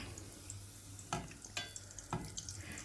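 Mangalore banana buns, hand-flattened dough made with banana, fry in oil with a steady close sizzle and bubbling, broken by a few brief louder splashes and clatters as they are moved.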